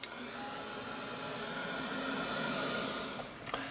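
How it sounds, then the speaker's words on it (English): Steady close-up whoosh of a heat gun blowing over a wet mixed media canvas, an even airy hiss with a faint hum that runs unbroken for several seconds, broken near the end by a couple of brief clicks. "I'm going to give it a quick blast with the heat gun"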